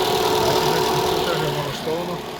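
A 2013 Toyota Avalon 2.5 Hybrid fitted with a gas conversion kit runs on gas, a close, steady engine drone with a slight vibration, with someone talking over it.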